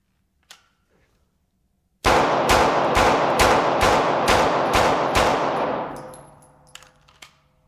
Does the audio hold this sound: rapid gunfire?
yes